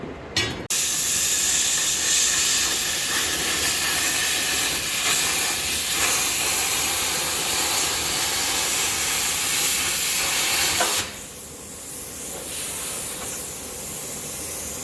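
A cutting torch or cutter slices through the other side of a metal Peterbilt truck frame, a loud, continuous harsh hiss that holds steady for about ten seconds, then cuts off abruptly into a quieter lingering hiss.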